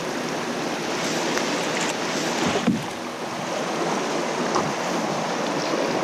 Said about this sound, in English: the rapids are almost unrunnable